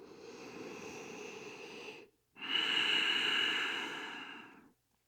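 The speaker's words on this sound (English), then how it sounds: "Take a breath here." Deep breathing during a yoga session: one long, airy inhale, a short pause, then a fuller, louder exhale that slowly fades out, heard close and alone.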